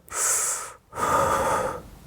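A kettlebell lifter breathes one full cycle while holding the bells overhead: a loud, close exhale followed by a brief pause, then a longer, rushing inhale.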